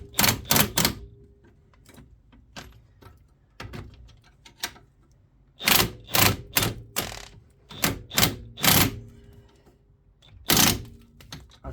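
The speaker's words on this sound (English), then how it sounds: "I don't know how people just don't work without these impact guns because it's so much easier" An impact gun fastens coilover bolts on a Subaru, firing several short, loud hammering bursts separated by pauses with faint workshop clatter between them.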